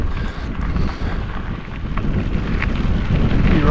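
Strong headwind gusting across the microphone on a steep Colorado mountain climb during a Tour Divide bike ride, a steady, loud low roar of buffeting wind filling the clip with no other clear sounds.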